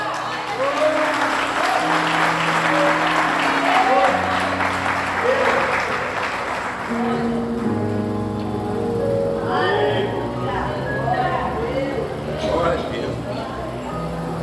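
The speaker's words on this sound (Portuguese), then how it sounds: "Aplauda o Senhor." Church congregation clapping in a loud, broad burst over sustained music with voices; the applause thins after midway, leaving the music and singing to carry on.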